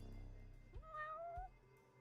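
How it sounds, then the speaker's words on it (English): A cat meows once in the video game Judgment, a clear rising-then-falling cry around the middle, close and fairly quiet over a steady low hum of game ambience, with no talking. "That's probably a cat."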